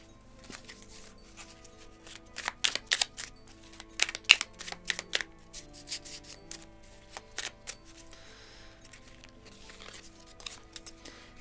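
Tarot or oracle cards being shuffled by hand for a reading, bursts of quick papery riffling and flicking that come in irregular clusters, close and fairly quiet, with no talking over them.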